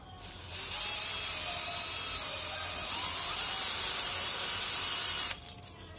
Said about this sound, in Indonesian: ditempelin ke bor